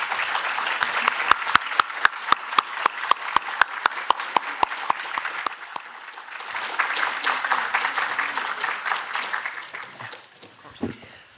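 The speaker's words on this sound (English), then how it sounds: "please a big applause for our" Audience applause for the Dean at an international medical congress: a dense crowd clapping with a few sharp, loud near claps cutting through for the first half, then a softer sustained patter that fades out.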